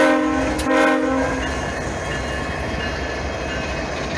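A loud train horn sounds briefly, then a heavy freight train led by SD70-series locomotives rumbles steadily past close by, with continuous low roar and rail noise.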